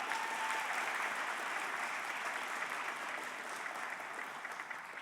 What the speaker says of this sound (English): Class, give a round of applause for all of your supporters.